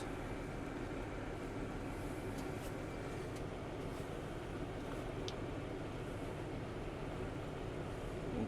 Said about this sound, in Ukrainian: Ось ми завели цей тракторець.